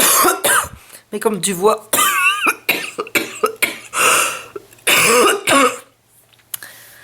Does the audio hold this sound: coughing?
yes